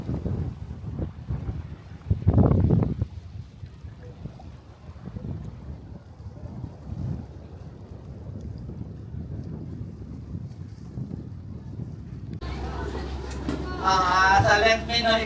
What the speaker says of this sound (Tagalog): Yung una, yan yung boat na sinasakyan natin.